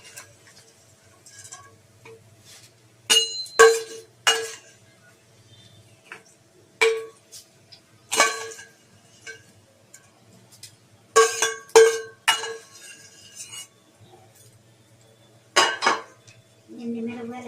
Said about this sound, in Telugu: ఎండుమిరపకాయలు వేసి కలుపుకోవాలండి, మాడిపోకుండా.